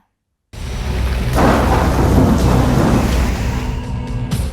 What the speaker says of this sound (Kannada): ಬೀದರ್ ಜಿಲ್ಲೆಯಾದ್ಯಂತ ಎರಡು ಮೂರು ದಿನಗಳಿಂದ ಮಳೆ ಸುರಿತಾ ಇದೆ